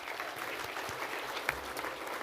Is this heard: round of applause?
yes